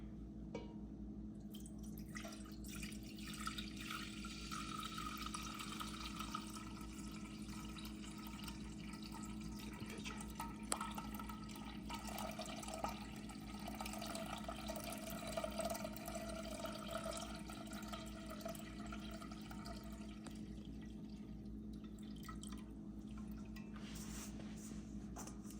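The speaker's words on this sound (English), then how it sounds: "pour this mixture" A liquid cooking mixture is poured back into a pot, giving a steady, soft trickle and splash with faint drips that run throughout at moderate distance, over a constant low background hum.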